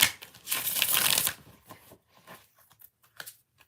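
Tarot cards being shuffled by hand, a loud close riffle burst at the start followed by a few softer, scattered card flicks and taps.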